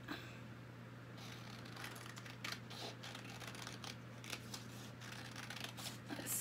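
Scissors snip through fabric while cutting out a folded baby bib pattern, a series of soft, close crisp cuts in a quiet room with no talking.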